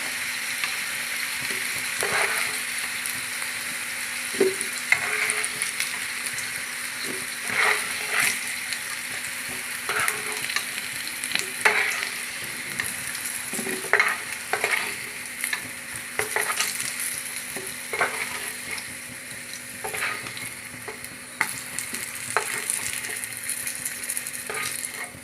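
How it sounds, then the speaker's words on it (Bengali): Potatoes fry in oil in a saucepan for a Bengali chicken kosha, giving a steady sizzle with repeated scraping stirs and light utensil clinks throughout. "সসপ্যানে তেল দিয়ে দিয়েছি, দিয়ে আলুটাকে ভাজা করে নিচ্ছি"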